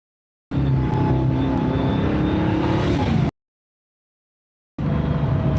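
The supercharged 6.2 engine of a Dodge Demon 170 runs with a loud, steady whirring roar and an odd rushing-air quality. It cuts out for over a second, then resumes just as loud.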